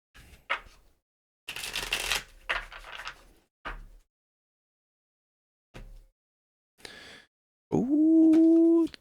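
Tarot cards are shuffled by hand in several quick riffling bursts separated by silence, close and crisp, ending with a brief sustained tonal chime.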